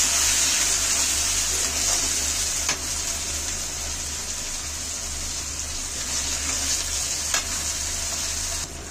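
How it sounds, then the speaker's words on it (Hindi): Green peas roast in a pan while making matar dal, giving a close, steady sizzle with a few sharp stirring taps and scrapes, with no voices. "ये मटर बचा के रखे थे जो डाल दे रहे हैं, इसे एक मिनट तक भूनेंगे"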